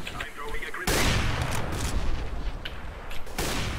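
Several loud close gunshots in the CS:GO game: a sharp blast near the start, then a sustained crackling burst of fire and a later shot, with muffled voices chatting under the gunfire.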